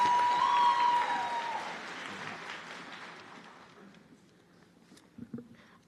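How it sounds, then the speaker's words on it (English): Audience applause at a nursing school white coat ceremony for the BSN program director, loud at first and fading steadily to scattered claps and quiet. "Let's give her a round of applause"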